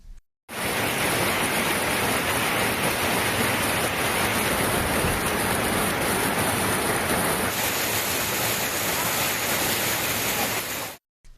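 Heavy rain pours steadily in a loud, dense hiss that holds evenly for about ten seconds, from a sudden downpour in Tamil Nadu that left water standing on the roads, with no voices heard.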